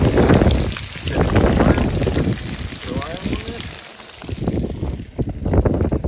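Pork knuckle singeing over an open wood fire beside a homemade two-disc welded cauldron stove, giving a steady loud crackling hiss that fades briefly and returns, with a voice talking over it.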